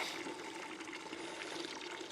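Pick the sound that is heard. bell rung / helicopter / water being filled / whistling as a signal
water being filled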